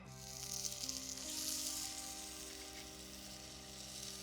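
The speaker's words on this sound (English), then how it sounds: "we're going to sear both sides for about 2 minutes" Steak searing in a hot pan with a little high-smoke-point oil, a steady, close sizzle that swells early on and then settles into an even hiss.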